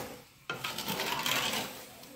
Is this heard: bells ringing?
no